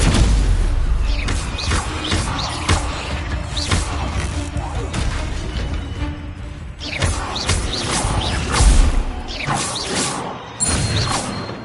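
Spell effects from a Hogwarts video game, including Incendio and Expelliarmus, burst out as a rapid string of loud whooshes, crackling blasts and crashing impacts, with a voice calling out between them.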